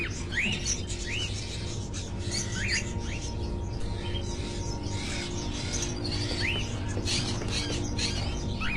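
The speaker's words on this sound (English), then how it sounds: "Are those crows in the cages?" Caged crows in the video game Fahrenheit, heard as repeated short chirps and calls scattered over a steady background hum, some calls close and others fainter.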